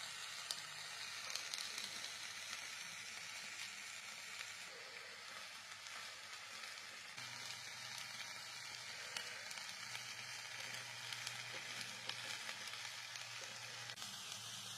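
Tandoori-style chicken roasts in an oiled pan at home, turned often and brushed with oil, giving a continuous soft sizzle and crackle with occasional stirring shifts, fairly quiet and without talk.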